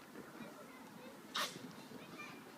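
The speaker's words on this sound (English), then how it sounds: "That one's sneezing." A pig on a farm in the East Midlands, England, gives a single short, sharp sneeze near the middle, standing out briefly over steady background chatter and farmyard noise.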